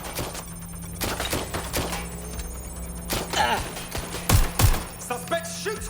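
Gunfire in the video game Watch Dogs: Legion, a few loud sharp shots and bursts with heavy thumps, mixed with game sound and music in a tense shootout.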